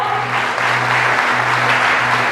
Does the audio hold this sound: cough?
no